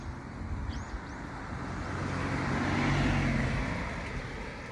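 Cars and other vehicles passing on a road, heard from roadside while cycling; a continuous traffic roar swells as a vehicle approaches and goes by, then eases off, with no talking.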